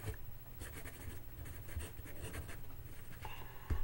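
A Sheaffer fountain pen with a medium nib scratches steadily across journal paper, a close, quiet sequence of short pen strokes with soft pauses between them.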